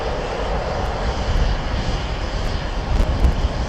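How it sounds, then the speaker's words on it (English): An Embraer jet lining up on a runway at Amsterdam Schiphol gives off a continuous, fairly loud engine roar with slight swells in level, unbroken by voices. "I think the Embraer is lining up to the right of me"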